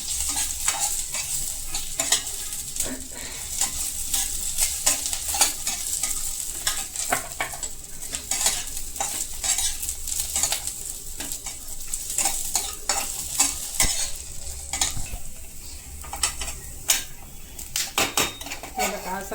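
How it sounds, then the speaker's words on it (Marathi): Ten to twelve garlic cloves fry in a pan, a continuous loud sizzle under constant clattering stirs and metal scrapes of a utensil against the pan, close up, with faint talk. "नंतर लसूण टाकायचं दहा बारा पाकळ्या गुलाबी रंग येईपर्यंत भाजून घ्यायचं"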